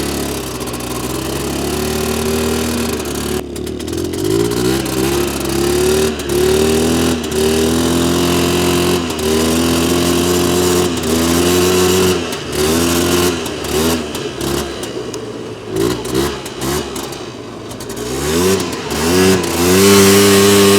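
Polaris quad ATV engine revving up and down repeatedly, loud and close, with rising and falling pitch sweeps and brief bogging dips between throttle blips.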